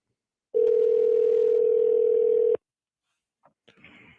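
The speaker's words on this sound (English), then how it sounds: "let me make a phone call here" A telephone dial tone sounds as a call is placed, a single loud steady tone lasting about two seconds, then silence and a few faint clicks and line noises.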